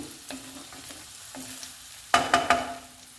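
Spiced fried mixture for egg rice sizzles steadily in a pan as eggs go in, a continuous soft frying hiss topped near the end by three quick sharp clanks, close and without any voices.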